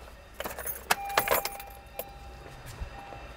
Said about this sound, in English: and then turn the ignition off.